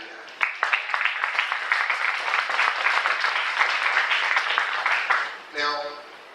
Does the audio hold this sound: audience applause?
yes